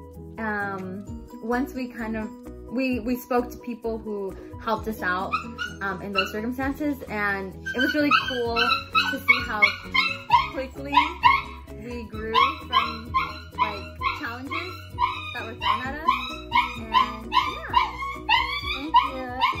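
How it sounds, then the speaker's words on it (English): A dog barks and whimpers, its yips and cries rising in rapid bursts under and after a young person's continuous indoor talking. "That is a dog barking, crying."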